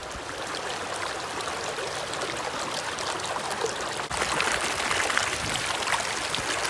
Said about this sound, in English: How is the water making that sound?